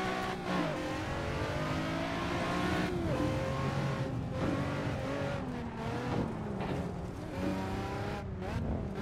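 Cars racing in a driving video game played on a MOZA R21 wheel, with loud continuous engine revving, shifting pitch from several cars, and occasional tire squeals and impacts, without talk.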